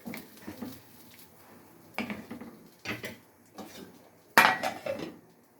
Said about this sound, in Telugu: ఒకసారి కలుపుకొని ఉప్పు చూసుకొని మూత పెట్టేసేయండి ఫ్రెండ్స్